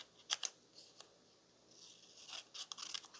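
Scissors snip through decorative paper for scrapbook bookmarks and page tabs, a few quiet crisp cuts early on, then a longer run of faint snipping near the end.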